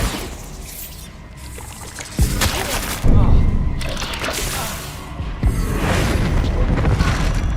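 Bombarda blasting spells explode inside the Hogwarts Legacy video game: several heavy, booming bursts, with a sharp onset near two seconds and others after it, over a continuous rumbling backdrop.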